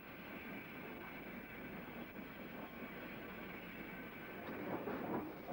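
A steam-era train running into Kiverton Park Station, a steady, fairly faint broadband rumble of wheels and rolling stock that swells slightly toward the end, with no voices.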